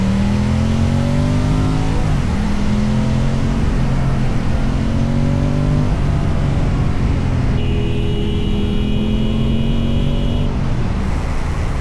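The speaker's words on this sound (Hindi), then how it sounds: "फिर से आ गए खोपोली और ये खोपोली की धीमी धीमी ट्रैफिक।" Slow-moving highway traffic near Khopoli, with steady car engine drone and shifting, rising engine tones as vehicles creep along and accelerate nearby, continuous and fairly loud, no talking.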